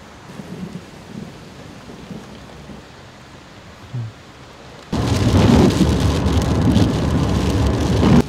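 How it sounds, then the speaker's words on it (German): Quiet patter of rain and a faint distant rumble during a hailstorm near Eindhoven, Netherlands, then a sudden surge into loud, heavy rain pouring steadily for the last few seconds. "Langsam wurde der Regen an meinem Standort immer mehr."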